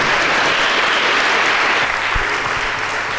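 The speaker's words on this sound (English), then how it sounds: "I would like to end this session with a round of applause for our panel." An audience at a medtech and biotech panel discussion gives a round of applause for the panel, steady dense clapping from a full room that continues evenly for over three seconds without talk.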